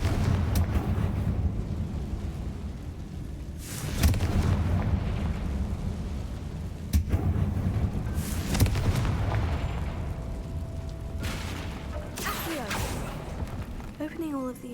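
A Confringo explosive spell blast in Hogwarts Legacy: several loud booming bursts spaced across a noisy, rumbling game scene, with a voice speaking over parts of it.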